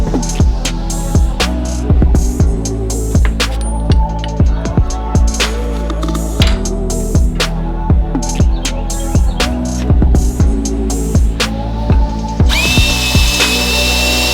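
Power tool, likely an impact driver, working the track bar bolt on a Jeep axle: loud, close, repeated short hammering bursts at a steady rhythm, ending in a sustained higher whir, no speech.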